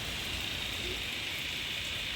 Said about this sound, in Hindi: ये देखिए बारिश कितनी ज़्यादा हो रही है